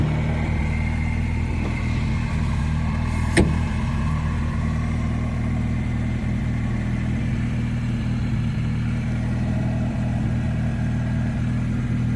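A Jeep Wrangler Rubicon drives off-road, its engine a steady, fairly loud rumble throughout with one sharp knock near the middle.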